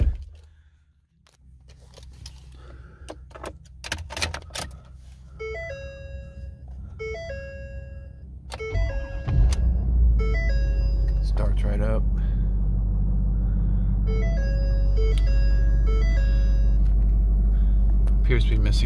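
A 2016 Ford F-350 pickup truck's engine cranks and catches on a cold start, settling into a deep, steady idle rumble, preceded by a few clicks and a short chiming tone pattern.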